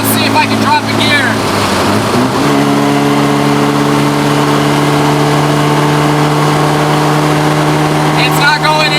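A drift project car with a Nissan KA engine revs loud and close, its steady droning engine note shifting pitch as a gear is dropped, then holding a sustained roar.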